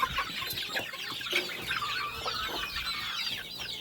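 Several chickens cluck busily close by, with overlapping high squawks and chatter and a young rooster's calls mixed in, steady throughout.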